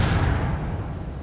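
The Reparo repair spell is cast in Hogwarts Legacy on a worn bridge, giving a brief rushing burst of magical energy that swells at once and then fades away.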